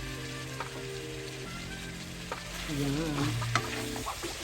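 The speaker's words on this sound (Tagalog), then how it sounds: "We need only the thing to be fried a little bit. The carrots and the potato." Carrots and potato for menudo fry in a pan with a soft, steady sizzle, stirred now and then with scraping clicks, and a quiet voice briefly speaks over it.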